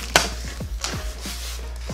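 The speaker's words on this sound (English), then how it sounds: "I sharpened my knife so I could cut boxes now." A freshly sharpened knife slices open a cardboard box, making a few short, close scraping strokes spaced irregularly.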